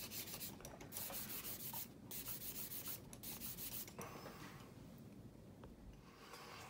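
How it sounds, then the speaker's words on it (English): A plastic model kit part of a Revell 1/48 F-15E being sanded with 800 grit sandpaper, a steady close rasping rub in repeated strokes with brief pauses, quiet and alone. "this is my 800 grit"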